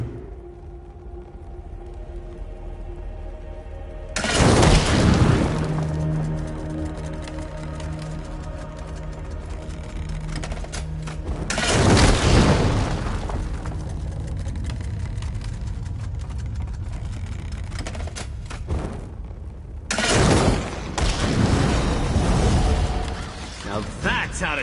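Ballista bolts launched and exploding in Elder Scrolls Online, three loud, booming blasts spaced several seconds apart, with mechanical cranking and rumbling between them and some talk around.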